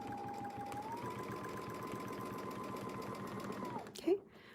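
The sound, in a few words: sewing machine stitching with Westalee ruler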